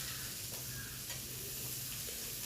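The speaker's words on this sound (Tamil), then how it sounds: "முதல்ல ஒரு வடைச்சட்டியில் கொஞ்சம் எண்ணெய் ஊற்றி கருவேப்பிலை, வெங்காயம், பச்சை மிளகாய் இதெல்லாம் போட்டு கொஞ்சம் நல்லா வதக்கிக்கலாங்க" Curry leaves, onion and green chili sautéing in oil in a kadai, a steady close sizzle with stirring scrapes that runs continuously, with no talking.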